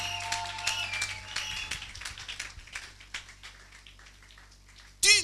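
A church congregation applauds Jesus, a dense patter of clapping that thins out into scattered claps before a sudden loud burst at the end.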